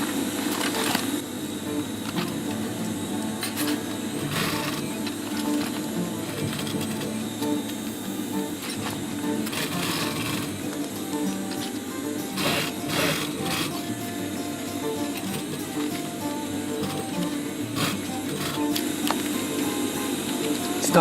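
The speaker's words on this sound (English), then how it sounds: "turn around and sew it all the way to the other side" A sewing machine stitches a fanny pack with a continuous, even mechanical whir and rapid needle clatter, close and steady throughout with small rhythmic variations.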